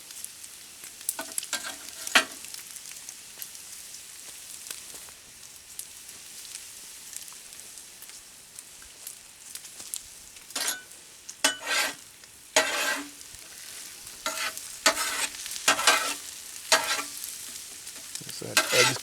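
Bacon sizzles and crackles in a pan at a forest campsite while it is stirred, with soft steady frying broken by sharper bursts of scraping and spattering, close and moderately loud.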